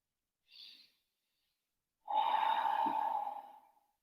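Yoga breath during an evening flow class: a soft short breath, a pause, then one long steady exhale lasting about a second and a half, close and alone with no talk.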